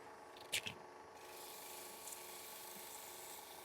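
Light hand sanding of a ring stand with 180 grit sandpaper: a faint, steady close rubbing hiss, with a couple of small taps near the start.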